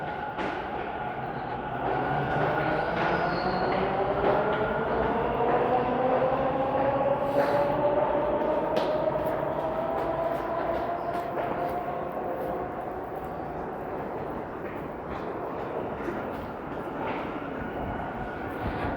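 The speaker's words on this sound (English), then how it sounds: "I'm here at Pape Station, which is located on line 2 of the city's subway system." Toronto subway train on Line 2 at Pape Station, a sustained rumble with a rising and falling whine as the train moves through, fairly loud and close, with no talk over it.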